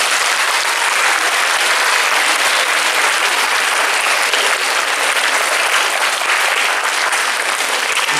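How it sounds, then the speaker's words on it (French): A school audience at a student science congress applauds steadily, a dense, loud and sustained burst of many hands clapping that holds for the whole stretch without talk. "on peut l'applaudir"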